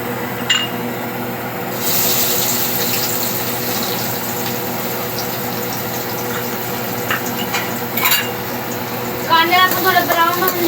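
Chopped onion drops into hot oil for a drumstick vegetable dish, setting off a steady loud sizzle that holds throughout, with a few utensil clinks and scrapes toward the end.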